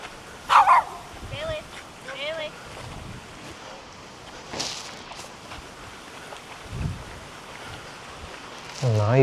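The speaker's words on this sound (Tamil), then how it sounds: "நாய் போயிட்டு பால் எடுத்துகிட்டு வருதுங்க." A dog barks near a river while roaming through a city: a few sharp, separate barks near the start and again at the end, over windy outdoor background and passing voices.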